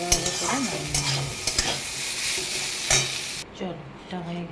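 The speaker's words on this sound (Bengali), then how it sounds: "এবারে এটাকে ভালো করে ভাজা ভাজা করে নামিয়ে নেব" Food sizzles steadily in a frying pan while a spoon scrapes and stirs it in a few brisk strokes; a voice-like warble is briefly audible, and the sizzle cuts off sharply near the end before fainter stirring resumes.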